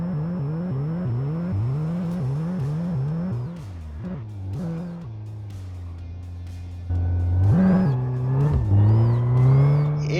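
Loud car engine from the driving game My Garage, a rally build doing donuts: revving rises and falls in repeated surges, then steady drone with tire squeal near the end, no talking.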